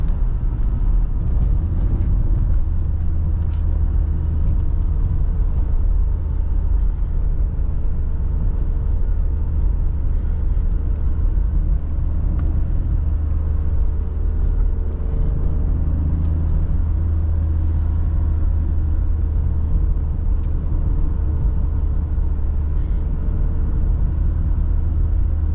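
A 1992 BMW E34 520i with the M50 engine pulling in third gear at full throttle, a loud continuous interior drone and road rumble that holds steady throughout.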